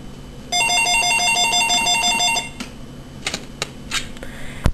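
A telephone rings with a repeated electronic trilling pattern for about two seconds, loud and close indoors, followed by a few sharp clicks and handling knocks.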